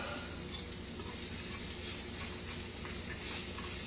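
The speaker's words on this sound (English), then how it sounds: "I'm just going to saute this a little bit because we're going to make a wrap." Leftover Philly steak filling sautéing in oil in a pan, a steady, fairly loud sizzle with occasional stirring, no one speaking.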